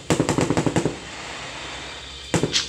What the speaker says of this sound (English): That's the sound of the fireworks.